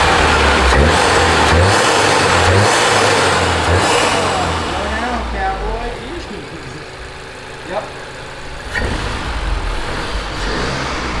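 A VW Mk7 GTI fitted with an Integrated Engineering cold air intake starts up and revs, loud engine bursts early that settle toward a lower idle, with people talking over it.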